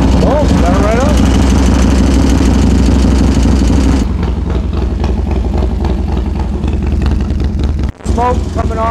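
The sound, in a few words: rebuilt car engine running after being fired up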